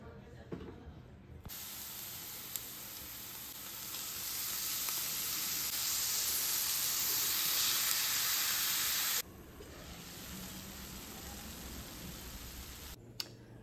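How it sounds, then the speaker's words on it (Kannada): Onion, chilli and beetroot fry in oil in a pan, producing a loud, steady broadband sizzle that builds and then cuts off abruptly, with faint background sounds before and after. "ಈರುಳ್ಳಿ ಮತ್ತು ಮೆಣಸಿನ್ಕಾಯಿ, ಬೀಟ್ರೂಟ್ ಅದೆಲ್ಲ ಹಾಕಿ ಚೆನ್ನಾಗಿ ಒಂದು ಸ್ವಲ್ಪ ಫ್ರೈ ಮಾಡಿ"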